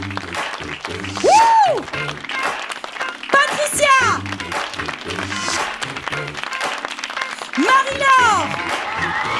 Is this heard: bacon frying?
no